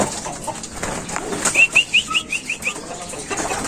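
A racing pigeon arrives at the loft during the first lap of an open race, giving a quick run of about seven rhythmic wing flaps or whistling wingbeats, fairly close and clear over a faint background with no talk.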